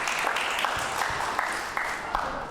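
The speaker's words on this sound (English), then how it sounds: "Will you give this gentleman a round of applause," Steady audience applause at a community festival while a man walks up to the stage, dense clapping filling the room with a few louder claps standing out.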